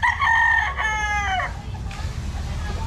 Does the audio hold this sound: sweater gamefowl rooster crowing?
yes